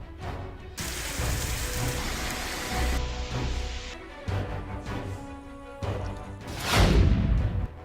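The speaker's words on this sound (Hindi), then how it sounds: "नेपाल में बारिश," Heavy monsoon rain pours down in Nepal, a loud, dense hiss of falling water that shifts abruptly between cuts, with a heavier crashing gush toward the end and no talk.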